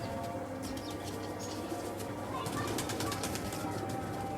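An Imamdeen pigeon coos softly amid light wing flutters and faint chirps from nearby birds, all low in level under a constant background hum, with a voice speaking at times.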